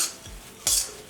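Spicy street-style churumuri puffed rice tossed by hand in a bowl, making a soft dry rustle with one brighter, louder scrape near the end of a brief moment.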